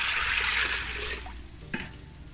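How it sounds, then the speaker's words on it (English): Water pours from above into a pot of rice and peas in a kitchen, a loud rushing splash that fades after about a second, followed by a brief clink. "Put some water in it."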